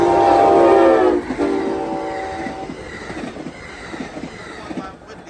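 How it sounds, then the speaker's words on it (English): Amtrak Capital Corridor train led by an SC44 Charger locomotive passing a road crossing, opening with a loud sustained horn blast that fades into rolling wheel clatter and rumble as the train goes by. "Alright, that train is going to San Jose."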